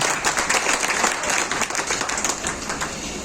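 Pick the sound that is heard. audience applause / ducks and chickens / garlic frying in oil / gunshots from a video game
audience applause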